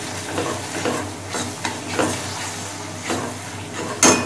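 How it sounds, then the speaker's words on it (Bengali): Spiced masala with onion is stirred and sautéed in a pan, a soft sizzle under repeated scraping strokes of a spatula, close and fairly quiet, ending in a sharper metallic clink. "আরো কিছুক্ষণ কষিয়ে নেবো মশলা।"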